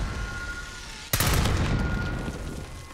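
Gunfire erupts abruptly in Call of Duty: Black Ops 6, a sharp loud burst followed by a sustained crackling roar of shots that slowly fades, heard alone over a low background hum.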